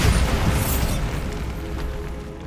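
A Bombarda spell blasts in the video game Hogwarts Legacy: a loud, deep explosive boom bursts at once and then fades into a lingering rumble over about two seconds.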